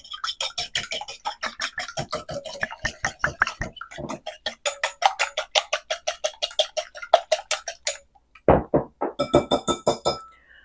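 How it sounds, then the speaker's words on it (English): Avocado oil being whisked in a bowl for keto cookie dough gives fast, steady metallic clinks and scrapes that pause briefly near the end, then pick up again, close and fairly loud, with no talking. "we're just going to give this a little bit of a whisk to pull it all together"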